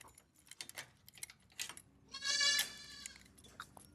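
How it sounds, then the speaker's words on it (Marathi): Goat kids in a farm shed let out one loud, close bleat lasting about half a second, surrounded by light metallic jangling and clicking, like keys and a lock being handled. "बकरीचे बच्चे एकदम जोरातच बोंबलतात"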